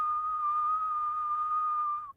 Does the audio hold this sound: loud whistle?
yes